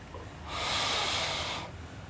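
A single long, hissing exhale through the nose during pranayama breathing practice, close and soft, lasting about a second with quiet before and after.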